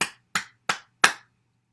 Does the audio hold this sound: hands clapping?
yes